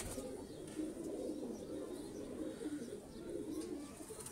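Pigeons coo softly and continuously at a distance in a steady low murmur, with no talk over it.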